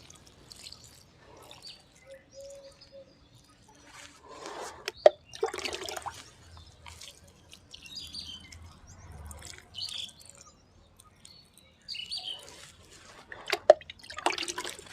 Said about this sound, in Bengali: বন্ধুরা, এবার আমি সব গাছগুলোতে একটু করে জল দিয়ে দিচ্ছি।